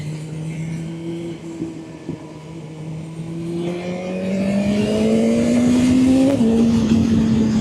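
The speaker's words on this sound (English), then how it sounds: "the exhaust note really is a lot nicer" A sport motorcycle in race mode heard from the rider's position, its exhaust droning steadily, then swelling louder and climbing in pitch as it accelerates, with a brief shift near the end.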